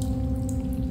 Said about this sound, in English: Far in the distance, you hear a sound like the ocean.